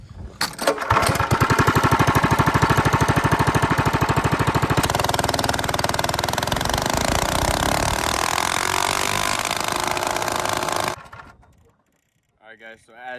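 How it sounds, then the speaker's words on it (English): A stock Ghost 212 small engine revs hard from idle up to full speed, a loud, close, rattling drone that holds near its limit, then shuts off and falls quiet. "stock 212 Ghost engine speed test"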